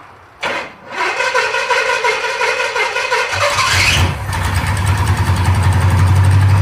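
A Pontiac T-37's engine cranks, catches and fires up, then settles into a steady, loud idle with a deep low rumble that carries on to the end, with no talk.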